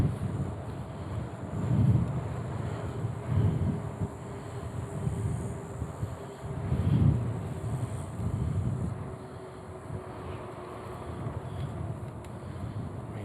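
Strong, gusty wind buffets the microphone while riding along a beach boulevard in Gulf Shores, a steady low roar that surges and eases in waves across the whole stretch, with no talking.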